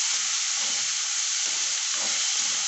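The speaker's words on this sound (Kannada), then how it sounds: "ಸ್ವಲ್ಪ ಹೊತ್ತು ಹುರ್ಕೋಬೇಕು." Masala dosa filling frying in a pan, giving a steady, loud, even sizzle and hiss with faint stirring scrapes underneath, continuous and alone without any voices.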